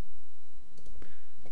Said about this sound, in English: I'll click on save.